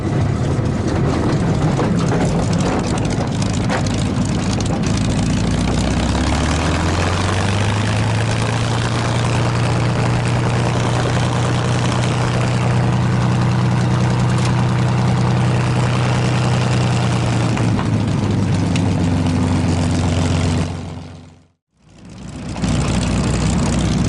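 A P-51 propeller aircraft engine drones steadily up close while taxiing, its low hum rising slightly in pitch, then cutting out briefly before resuming.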